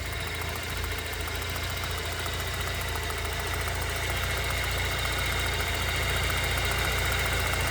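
A 1989 Ford Tempo coupe engine with new ignition wires idles steadily and evenly, a continuous mid-pitched hum that stays close and constant throughout with no shudder.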